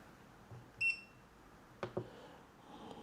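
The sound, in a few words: camera controller beep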